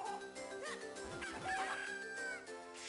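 Chicken clucks and a crowing call from the Zelda: The Minish Cap video game, heard over layered game music with bright chiming tones, fairly quiet and alone without talk.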